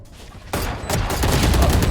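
Rapid bursts of rifle fire from the Guardian in a competitive Valorant esports match, starting abruptly about midway and continuing as dense, loud repeated shots through the end.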